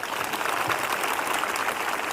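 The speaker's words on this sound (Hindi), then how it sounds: "एक जोरदार ताली बजाएं।" Congregation at a Sunday evening prayer meeting of the Prophet Bajinder Singh ministry clapping loudly, a dense, even wash of applause filling about two seconds without speech.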